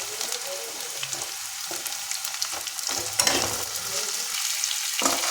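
Chopped flat beans fry in a pan with potato and onion, a continuous close sizzle broken by repeated scraping stirs of a spatula, fairly loud and without any voices.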